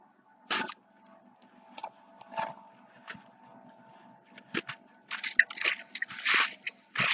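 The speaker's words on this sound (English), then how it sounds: "There's got some licking and chewing here." An animal licks and chews during a massage, making irregular wet smacking and clicking chewing sounds close by over a faint, steady low hum.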